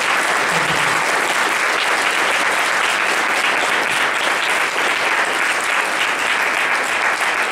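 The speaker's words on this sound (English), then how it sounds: "So big round of applause for John Wardley." Sustained audience applause at an indoor Q&A birthday celebration, a dense, even clatter of many hands that holds steady from start to finish with no voices over it.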